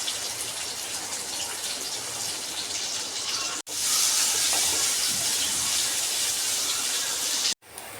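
Sliced onions, green chillies, carrots and ginger fry in a pan while sweet corn rice is cooked, giving a loud, steady hissing sizzle with two brief cutouts.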